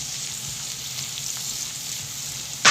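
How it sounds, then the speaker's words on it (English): Onions fry in a pan with a steady, close sizzle and crackle while being stirred, ending in a brief loud scrape or clatter. "I wanna get a little bit browner edges on my onions because I want my onions to be soft and caramelized"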